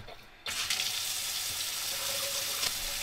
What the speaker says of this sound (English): Got good water flow.